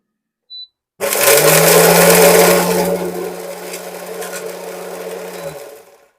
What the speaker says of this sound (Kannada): ಸೊ ನಾನೇ ಮಿಕ್ಸಿ ಮಾಡ್ತೀನಿ ಈಗ